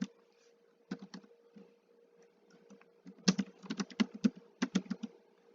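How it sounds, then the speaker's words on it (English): Close-up computer keyboard typing comes in bursts of crisp clicks, sparse at first and then a rapid cluster of keystrokes, over a quiet background. "I can type."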